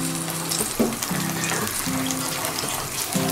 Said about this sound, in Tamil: கொஞ்சம் சிம்லேயே வச்சு எண்ணெயில் போட்டுருங்க